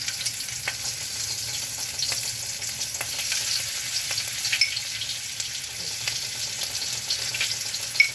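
Garlic and baked tomato frying in a pan for lamb pasta, a steady close sizzle with scattered pops and crackles and occasional stirring scrapes throughout.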